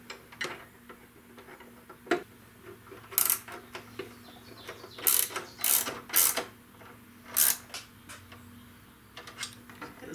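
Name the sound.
ratchet wrench tightening 10mm fairing bolts on motorcycle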